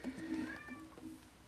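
A cat gives a drawn-out meow, then a couple of softer, shorter ones, faint and close. A person's voice may be imitating the meow as well.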